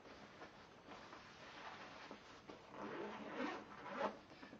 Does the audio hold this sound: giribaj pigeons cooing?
no